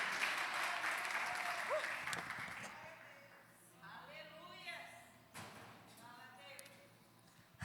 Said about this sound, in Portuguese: aplaude ao Senhor com toda a tua força e entendimento